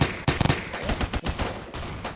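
Rapid gunfire from the M11 rifle in the Roblox game Phantom Forces rattles in dense, loud bursts that fill the short stretch with no voices.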